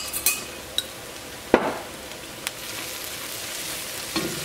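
Turmeric powder frying with onions in a pan for Kerala-style chicken curry, a quiet steady sizzle broken by a few sharp scrapes and clinks of a spoon stirring against the pot.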